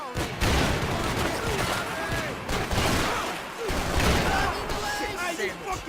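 Gunfire in the video game Max Payne 3, heavy, continuous barrages of shots and impacts running under shouted voices throughout, loud and close with dense rattling bursts.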